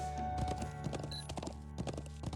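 Horse hooves clip-clopping in the video game Trails of Cold Steel II, a steady rhythmic trot of sharp hoof strikes over a bed of game music.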